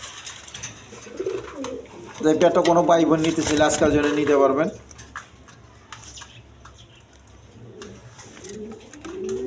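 A pair of Blackless Sharding pigeons coo softly in a loft while someone talks at length over them, the low murmuring coos rising faintly before and after his speech.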